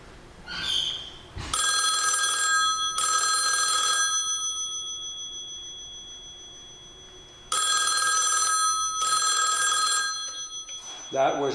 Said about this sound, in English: That was the beige telephone.